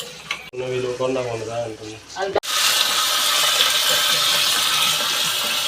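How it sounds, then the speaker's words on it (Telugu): A voice talks briefly, then a sudden loud, steady sizzle bursts in as curry leaves hit hot oil in a pan while a puffed-rice mixture is being made. "కరివేపాకు కొంచెం వేపుకోండి"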